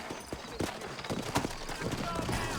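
Horses clip-clop along in the Red Dead Redemption video game, a loose, uneven patter of hooves beneath steady voices talking over it.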